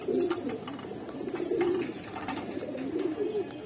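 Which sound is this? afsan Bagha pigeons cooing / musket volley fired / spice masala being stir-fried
afsan Bagha pigeons cooing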